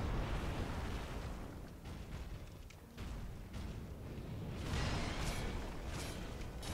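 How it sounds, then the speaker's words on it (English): Heavy booming blasts and rushing whooshes from sonic boom attacks striking a player in Dark Souls, deep rumbling bursts that swell and fade over a dense, low background. "Getting hit by these sonic booms."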